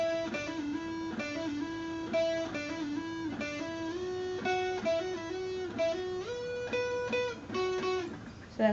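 A clean-toned guitar plays a chorus riff, a repeating run of plucked single notes up high on the neck, clear and solo with steady rhythmic phrasing.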